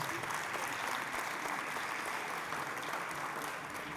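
Crowd applause for league sponsors at a youth baseball championship game, a broad steady patter of clapping from spectators in the stands, faint and distant, continuing evenly for several seconds.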